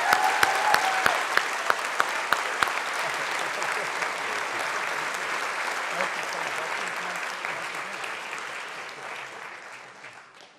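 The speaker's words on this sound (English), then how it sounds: "So how about one more round of applause for the Surgeon General?" Applause from a summit audience on the opioid crisis, honoring the Surgeon General, sustained and dense, with a few sharp claps and a brief vocal note early, then gradually fading over about ten seconds.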